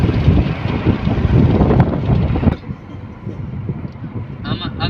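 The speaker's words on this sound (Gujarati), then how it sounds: "તમને પવનનો અવાજ બહુ જ આવી કે વાવા એકદમ પવન છે" Heavy wind buffets the microphone in a loud, rumbling roar for a few seconds, then drops to a softer, steadier gusting.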